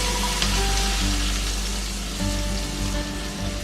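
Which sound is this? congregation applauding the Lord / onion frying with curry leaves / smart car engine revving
onion frying with curry leaves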